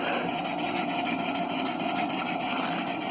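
A Hasbrouck #1 steam engine runs steadily, a continuous even mechanical hum with a faint regular rhythmic beat, close and alone without talk.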